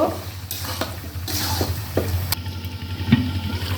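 Chicken pieces sear in spiced oil in a pan for a Sirajganj-style chicken and potato curry, with a steady close sizzle and repeated scraping strokes of a spoon stirring through the meat.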